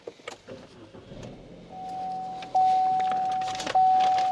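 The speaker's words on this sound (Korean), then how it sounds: "시동소리 휘발유 차량답게 굉장히 정숙하게 잘 걸리고 있는 차량이고" A Chevrolet Cruze petrol car with 57,768 km starts up nearby. A short crank is followed by a quiet, steady idle hum.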